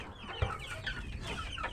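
Several chickens clucking at a poultry farm near the breeding hatch, with overlapping close and mid-distance clucks and calls over steady barn ambience.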